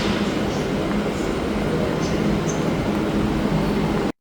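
A Hyderabad metro train at a crowded station during rush hour gives a steady, loud rumble and hum throughout, with voices of people in the background.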